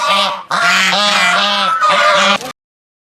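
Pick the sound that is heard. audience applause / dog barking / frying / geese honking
geese honking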